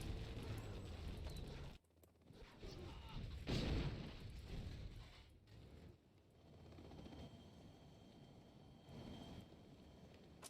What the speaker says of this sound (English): yeah, there's the artillery